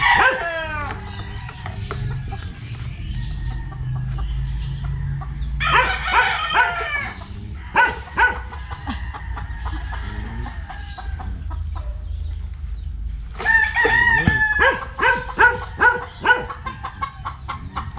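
A dog barks repeatedly while roosters crow and chickens cluck nearby, bursts of noise coming in uneven waves.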